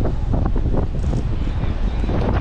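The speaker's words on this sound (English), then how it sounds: "The wind is really, really crazy." Strong wind roars into the microphone without a break, heavy low buffeting over an outdoor spot busy with families, loud and continuous with no voices clear above it.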